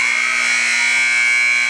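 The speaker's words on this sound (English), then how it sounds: "the buzzer's about to sound" A loud, steady electronic buzzer at a college volleyball match sounds alone and continuously, marking the end of a break in play in the gym.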